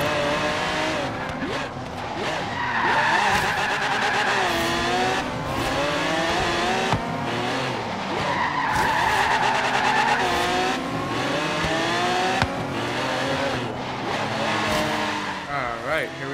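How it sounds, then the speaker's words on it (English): Forza Horizon 3 racing audio: a retro supercar drifts between traffic with tyres squealing and the engine revving, rising and falling continuously and loudly, while someone talks over the gameplay. "Still drifting in between cars."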